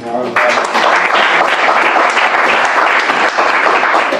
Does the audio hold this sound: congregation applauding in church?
yes